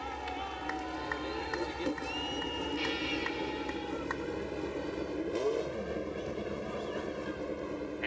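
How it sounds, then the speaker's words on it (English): IndyCar engines at Atlanta Motor Speedway fire up and hum together in a steady, layered drone, with crowd noise around them. "start your engines"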